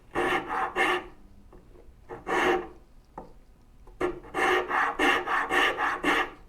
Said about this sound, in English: all you're going to hear is rasp, rasp, rasp